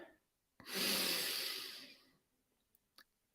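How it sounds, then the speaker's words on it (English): A single deep, slow breath is drawn close to the microphone, with a soft rushing airflow that swells and then fades out over about a second and a half. A few faint clicks follow in otherwise quiet surroundings. "Take a deep breath into the heart."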